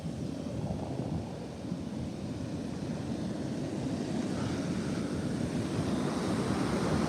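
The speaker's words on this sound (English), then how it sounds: "Frickin' water trying to get me." Ocean surf rushes onto a beach with a constant broad roar, loud and close, with no talk over it.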